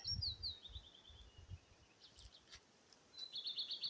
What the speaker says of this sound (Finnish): Linnut laulaa.